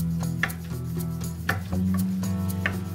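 Knife chopping salad ingredients into small quarter-inch bits on a cutting board, a run of fairly close, crisp cuts with steady irregular rhythm over a low background hum.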